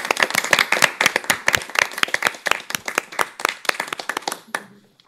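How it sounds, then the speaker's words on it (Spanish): Audience applause after a talk at a Spanish-language conference, a small group clapping with distinct, fairly close hand claps in an irregular rhythm that thins out and stops after about five seconds. "os damos un aplauso"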